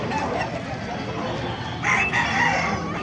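A rooster crows loudly and nearby at the Bocaue poultry market, its call rising over a bustling background of other fowl and market murmur.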